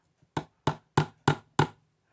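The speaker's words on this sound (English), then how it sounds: "Get a good brass hammer, wrap some cloth around it, and beat on it." A brass hammer wrapped in cloth beats on a knife, five evenly spaced muffled thumps at close range, with short pauses between strikes and no talking.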